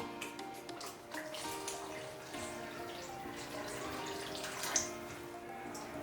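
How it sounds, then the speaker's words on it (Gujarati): A glass of water streams steadily into a pan of butter chicken gravy, a soft continuous pour with light splashing, close by and otherwise quiet. "એક ગ્લાસ પાણી ઉમેરીશું"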